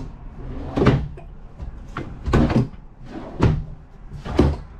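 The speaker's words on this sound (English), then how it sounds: "Some of these drawers have never been opened before, so I'm having to kind of give it the beans" Stiff, never-used drawers in a Dutchmen Voltage 4225 RV are pulled open and pushed shut, giving five firm knocks and thuds at fairly regular intervals, close up, with faint scraping and rattling between the hits.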